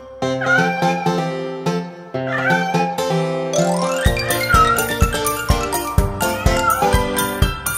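High kitten-like meows repeat over a bouncy musical backing, joined partway through by a steady beat and tinkling chimes.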